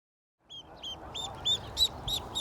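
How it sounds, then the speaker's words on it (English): A pair of 5-day-old baby mallard ducklings on a farm gives repeated high, thin peeps and calls close by, several short chirps over a steady rustling background. "here is a pair of 5-day-old mallard ducks"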